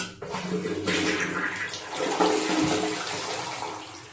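Water rushes through a newly installed toilet bidet hose for about four seconds, a close, continuous hissing spray with no voices.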